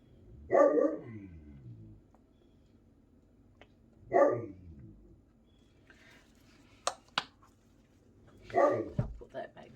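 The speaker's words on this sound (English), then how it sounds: "dog's obviously woken up." A dog barks indoors in three separate bursts spread several seconds apart. Each bark is moderately loud against a quiet room, with a few sharp clicks between them.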